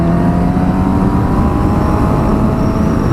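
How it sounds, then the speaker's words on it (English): A 2017 Suzuki GSX-S750 motorcycle's four-cylinder engine whines steadily while riding, loud and close, with smooth sustained tones over a constant roar. "Just an unfamiliar sound with that 4-cylinder engine whining away"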